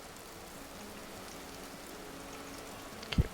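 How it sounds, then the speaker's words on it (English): Steady rainfall in the survival game Vintage Story, a soft continuous hiss of drops on the ground heard throughout, with a brief low thump near the end and no talking. "At least not somewhere where it's raining right now."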